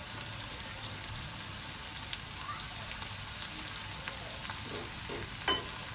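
Finely chopped tomato frying with browned onion in a pan, a soft steady sizzle with faint stirring scrapes and a brief clatter near the end.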